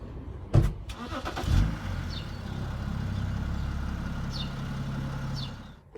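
A BMW E90 with an M57 diesel engine cranks on a cold start with a couple of sharp turnover bursts, catches, then settles into a steady rough idle; a few faint chirps sound in the background.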